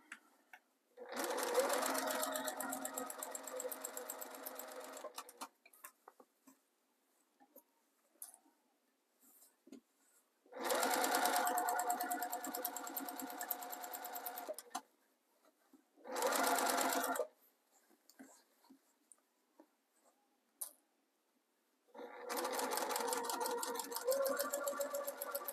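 A sewing machine stitches piping trim onto a Christmas stocking in four separate bursts of rapid, even chattering, with quiet pauses between runs as the fabric is guided.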